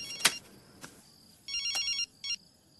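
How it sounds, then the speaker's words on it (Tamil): A household telephone rings indoors with a bright electronic trill in two bursts, a longer ring followed by a short one, after a couple of sharp knocks or clicks. "போன் அடிக்கிறதுல ஏந்து போய் பேசு போ"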